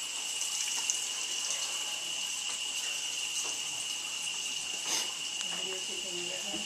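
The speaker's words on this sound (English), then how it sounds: "Wash your hands." Water runs steadily from a tap during handwashing at a ranger station, a constant faint hiss with brief splashes and clinks and no clear talk.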